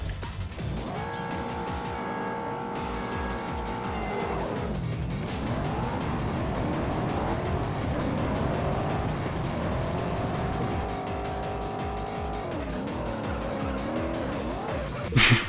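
A race car in the video game Juiced spins out, its engine droning and tires squealing in long wavering skids that rise and fall, with music and faint talk underneath.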